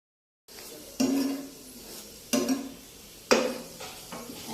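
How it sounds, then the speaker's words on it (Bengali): Vegetable paratha frying in hot oil gives a steady sizzle, broken by three sharp bursts of spattering and utensil scraping as the flatbreads are turned and lifted. "এগুলো এবার এখন ছেঁকে নিব"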